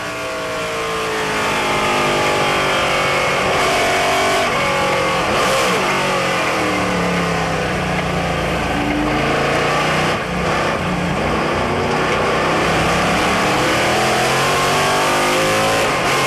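Race cars including a Chevron B16 roar past at the Le Mans Classic, loud engines revving and shifting continuously, with overlapping engine notes rising and falling as cars pass close by.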